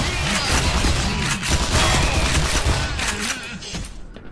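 Turrets in the Black Mesa video game fire in a dense, continuous burst of rapid gunfire with crashing impacts, loud and sustained for several seconds before easing slightly at the end.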